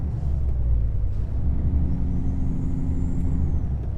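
Truck air brake from a Freightliner Argosy mod in American Truck Simulator, a short hiss of released air over a low steady engine rumble.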